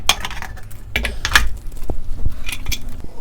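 Metal lid of a pressure cooker being opened after depressurising, sharp clanks and scraping metal clicks in a few bursts, close and fairly loud, no talking.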